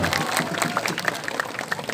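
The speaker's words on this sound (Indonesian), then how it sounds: "bersama-sama berikan aplaus tepuk tangan kepada tim BAC Gumelar" Crowd applause for the BAC Gumelar volleyball team at a grand final in Banyumas, a short burst of clapping from spectators in a hall with some background crowd noise.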